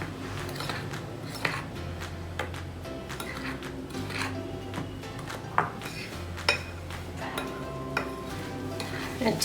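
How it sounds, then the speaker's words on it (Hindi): A spoon stirs sugar and cardamom powder into sattu flour in a metal pot, giving scraping and clinking strokes at an irregular rhythm, close and moderately loud, over a faint low hum. "अब इसे पहले अच्छी तरह से मिक्स कर लेती हूँ।"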